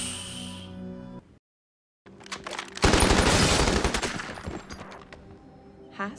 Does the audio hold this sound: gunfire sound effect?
yes